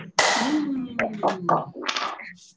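Children in a primary school PE class clap their hands together once, a single sharp, loud smack of many hands, followed by a voice speaking.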